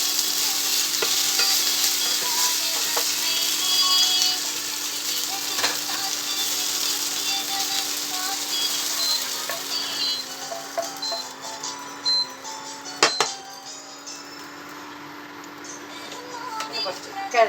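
Sliced okra (vendakka) fries in a pan for a dhaba-style gravy, making a bright, continuous sizzle and hiss with occasional stirring clinks, while a voice is faintly heard at times.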